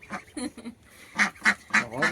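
Domestic ducks quack in short bursts, several nasal calls spaced across the moment, fairly close and moderately loud with no talking, as if hungry for feed.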